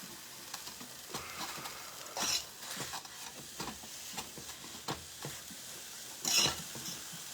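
Pork chops browning in a frying pan, a faint steady sizzle broken by soft scrapes and clinks of a utensil against the pan, with two brighter hissing bursts.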